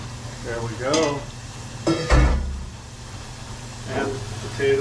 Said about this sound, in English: And once again, potatoes are still frying.